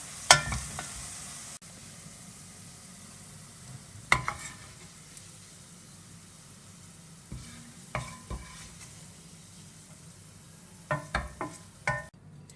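Biryani masala spices fry in a pan with a quiet steady sizzle, broken by occasional scraping and clinking stirs of a utensil against the metal.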